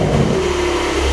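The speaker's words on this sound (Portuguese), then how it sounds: "Eu vou ligar ele, todo Porsche" A Porsche 911 Carrera Turbo engine is running at a close, loud steady idle, holding a constant hum with a faint whine above it, and no one speaks over it.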